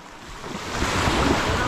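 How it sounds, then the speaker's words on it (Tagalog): Strong sea waves surge around a rescue boat out at sea, a broad rushing wash mixed with wind buffeting the microphone, building louder toward the end. "medyo malakas mga alon"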